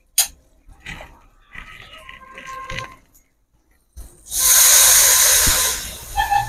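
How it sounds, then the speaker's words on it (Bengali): Loud, close hiss of water poured into hot spice paste fried in oil for a pangas fish curry, the sizzle rising abruptly and holding steady, after a stretch of quieter kitchen clatter. "তো এবার আমি এর মধ্যে সামান্য পরিমাণ জল দেব"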